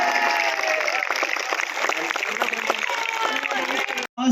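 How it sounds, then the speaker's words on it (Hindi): Loud, dense applause from a university audience in Raipur at the opening of Aarohan 2024, welcoming the vice-chancellor. It runs steadily for about four seconds, then breaks off briefly near the end. "जोरदार तालियों से स्वागत"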